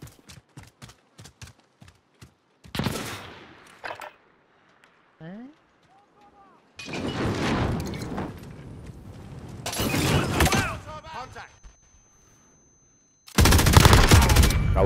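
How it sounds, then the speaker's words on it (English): Heavy machine gun fire in a shooting video game comes as a few long, loud bursts of rapid shots, separated by quieter moments with scattered single shots and in-game sound effects. "Heavy machine gun?"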